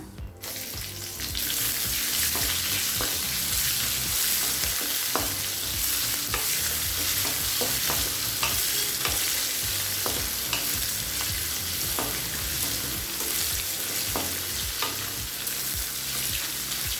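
Onions sizzle and fry steadily in a hot pan, with repeated scraping and clinking as they are stirred; close and continuous, no talking.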